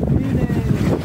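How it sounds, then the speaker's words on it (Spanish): A motorboat's engine drones low and steady on the water off the beaches of El Esteron, El Salvador, mixed with wind buffeting the microphone and rushing water, with a voice speaking nearby. "Agarra, hermano. Se acerca la lancha."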